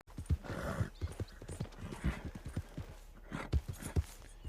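Horse hooves clip-clop in a steady, even rhythm of sharp knocks at moderate distance, with no voices over them.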